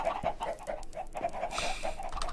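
Minecraft chicken being struck and killed in the video game: a run of short, clucking squawks repeating in quick bursts, clear and close, with a brief rustling hiss near the end.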